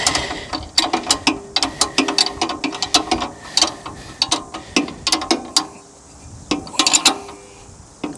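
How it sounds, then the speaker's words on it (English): A ratchet tightens the top nuts on a Turbosawmill during adjustment, giving close, loud bursts of rapid metallic clicks in uneven runs with short pauses between strokes. "then we'll tighten the top nuts"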